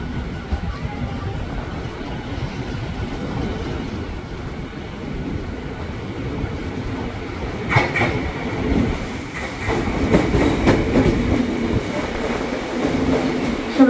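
A KRL Commuter Line electric train rolls into a station on the Jakarta Kota route, its rumble building with rhythmic clickety-clack of wheels and faint squeal, while a station announcement plays.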